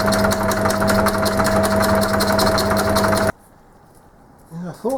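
A Gingery metal shaper facing its ram cap, cutting into aluminium shim stock, runs as a loud steady mechanical drone with a rhythmic stroke pulse, then cuts off abruptly near the end, leaving quiet room noise and a brief voice.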